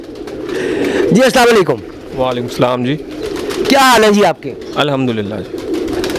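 Domestic pigeons coo in a low, rolling murmur on a rooftop loft, steady in the background while two men exchange greetings loudly over it.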